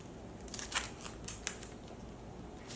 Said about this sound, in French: vous allez couper donc avec vos ciseaux sur la ligne de contour